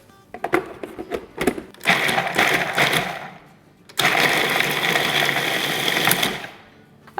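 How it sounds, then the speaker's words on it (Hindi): An electric grinder whirs through makhana (fox nuts) in two loud, steady bursts of about two seconds each, with short rattly starts before each run and a pause between them. "तो पहले मखाने को ग्राइंड करते हैं"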